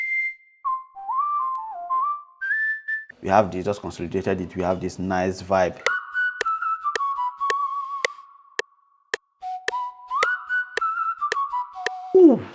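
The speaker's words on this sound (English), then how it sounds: "this whistle is from, this plugin" A melodic sampled human whistle from a software plugin plays bright, gliding notes alongside plucked tones, with people talking over parts of it.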